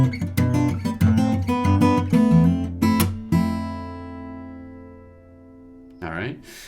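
A simplified guitar chord walk-down for the pre-chorus, a few strummed chords stepping downward with a long ringing decay at the end, close and clear, followed by a brief rustle.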